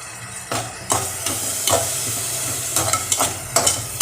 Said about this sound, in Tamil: இப்போ இதையும் போட்டு நல்லா வதக்கிக்கிடணும்.